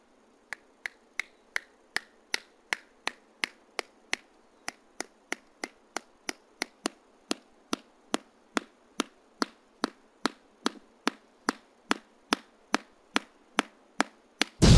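Sharp, regular hammer taps strike about twice a second, driving fertilizer spikes into the ground, a steady run of crisp knocks in a quiet setting with no talking.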